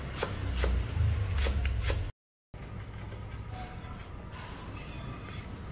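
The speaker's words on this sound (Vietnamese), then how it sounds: "Hành lá thì mình xắt nó mỏng mỏng nha." A knife thinly slices green onions on a board for bánh xèo, rapid close chopping taps in a steady rhythm, broken by a brief silence before lighter cutting resumes.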